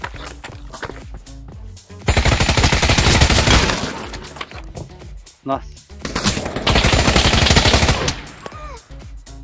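AK rifle fire in the VR shooter Pavlov comes in two long, loud automatic bursts with a quieter gap between them, and someone speaks briefly in the lull.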